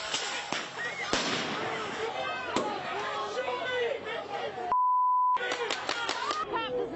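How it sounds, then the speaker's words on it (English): Fireworks thrown in a city street, sharp bangs and cracks scattered over a noisy crowd with voices chattering throughout, broken once by a steady electronic beep tone. "There are people throwing fireworks and who knows what else."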